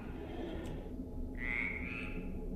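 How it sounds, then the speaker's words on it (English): A frog croaks in the dark horror game Dark Echo, a single drawn-out tonal call rising over a low droning ambient hum. "Am I supposed to be using that frog for something?"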